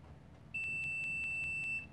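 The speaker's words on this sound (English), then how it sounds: "you will hear that long beep, and that means the meter will shut off" A clamp meter gives a single long electronic beep as it shuts off, lasting just over a second, steady and high-pitched with a faint pulsing flutter, over a quiet hum.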